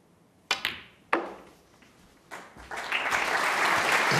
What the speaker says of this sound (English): Round of applause for the frame-winning shot.